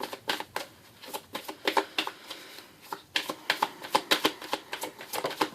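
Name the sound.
shuffling tarot cards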